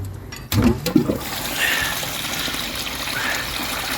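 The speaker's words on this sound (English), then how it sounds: "I only flush so much at a time" Water flushes out of a filter, a sudden gush after a knock that settles into a steady rushing trickle, fairly loud and close.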